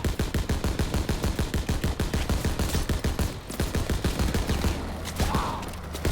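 Relentless machine-gun and rifle fire in the Call of Duty: WWII Normandy landing battle, rapid loud bursts packed close together with a short lull before the shooting resumes, and no speech over it.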